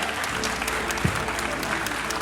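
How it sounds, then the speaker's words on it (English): Steady, dense applause from a talent show audience at the Talent Search Cymru callbacks, continuous clapping at an even level for the whole stretch, with one brief thump partway through. "Round of applause, guys."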